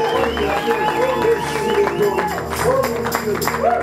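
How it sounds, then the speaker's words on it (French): A church congregation claps and cheers in praise of Jesus, a steady crowd roar blended with singing voices and music throughout. "Oh, acclame pour Jésus."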